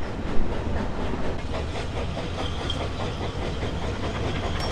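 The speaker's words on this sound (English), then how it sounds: "there's a steam train here" A steam train on the narrow-gauge Ffestiniog Railway at Porthmadog in Wales passes close by, a loud steady hiss of steam mixed with rolling wheel rumble and faint rhythmic clatter.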